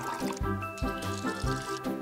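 Dye is squirted from a syringe into a bottle for a foam experiment, giving a close run of wet, bubbling liquid gurgles that pulse in a regular rhythm against a faint tonal background.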